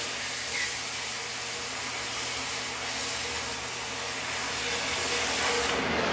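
Oxy-acetylene torch cutting through steel along a marked line, a steady loud roaring hiss that holds constant with no break, close by and without talk.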